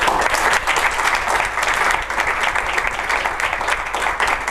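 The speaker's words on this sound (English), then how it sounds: "I'd like a round of applause for her" A conference audience at a final project event gives a loud, dense round of applause, many hands clapping steadily and close throughout.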